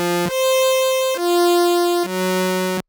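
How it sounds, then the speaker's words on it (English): A bright, buzzy analog synth patch of a single saw wave plays three sustained notes in turn, each stepping to a new pitch, with a rich, raw sawtooth edge. "So it's just one saw wave"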